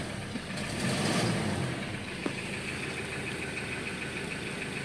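A 2015 Ford Ranger engine running after a transmission repair, a steady, fairly quiet idle with a low hum and faint higher whine, a slight swell early on and one brief click midway.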